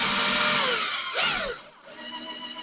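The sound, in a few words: power drill with small drill bits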